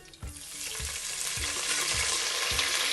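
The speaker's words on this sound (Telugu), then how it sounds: "నూనె వేడెక్కిన తర్వాత ఇందాక మనం చూసిన డ్రై మసాలాలన్నీ వేసేయాలి" Dry spices hit hot oil in a pressure cooker for a vegetable dum biryani, setting off a loud, steady sizzle that swells and stays, punctuated by periodic low stirring knocks against the pot.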